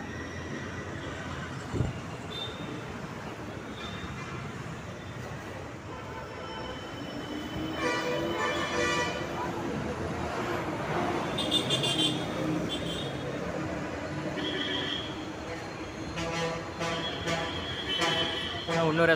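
An SNR bus pulls into Gandhipuram bus stand in Coimbatore amid a busy terminal: a rumbling engine and rattling body noise that grows louder midway, with brief squeaks, while people talk throughout.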